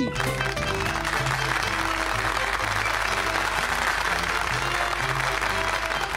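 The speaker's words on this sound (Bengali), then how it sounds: "তালি!" Audience applause at a Christmas event before a dance performance, steady dense clapping throughout, mixed with sustained musical tones underneath.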